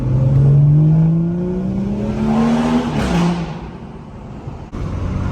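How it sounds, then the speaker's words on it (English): A BMW M240i with a B58 engine, catless downpipe and full catback exhaust revs loudly; a rising engine whine peaks, then a sweeping exhaust roar passes close by and fades. "you can hear that my exhaust setup is still pretty loud. It is a catless downpipe with a full catback exhaust"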